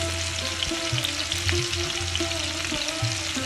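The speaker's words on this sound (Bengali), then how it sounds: "পেস্টটা আমি লাল লাল করে ভেজে নিচ্ছি" Spice paste with green chilies sizzles steadily in hot oil in a pan for prawn malai curry, a close, continuous crackling fry with faint stirring and no voices.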